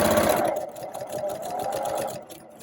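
Sewing machine stitching quilt pieces for a NY Beauty block, a steady close mechanical whirr of rapid needle strokes that slows near the end.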